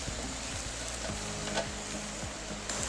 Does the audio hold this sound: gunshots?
no